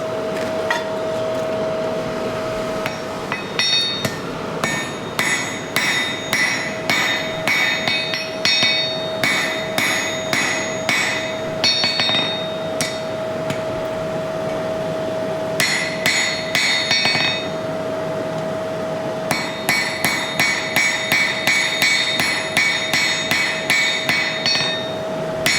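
A hammer strikes bog iron stock during hand forging, sharp ringing metallic blows in bursts of rapid, rhythmic hits separated by short pauses, close and clear over a constant background hum.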